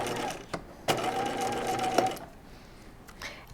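A sewing machine stitches a halter top bodice, running steadily in a fast even whir for about two seconds between brief starts and stops, close and clear with no talking.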